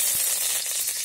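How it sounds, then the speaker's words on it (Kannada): Curry leaves hit hot oil for idli uppittu, producing a bright, continuous hiss of sizzling close by, steady and unbroken, with nobody speaking. "ಕರಿಬೇವಿನ ಎಲೆ ಹಾಕ್ತಿದ್ದೀನಿ."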